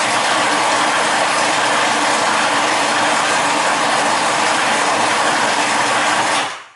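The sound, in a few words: food processor with plastic blades mixing salmon and cod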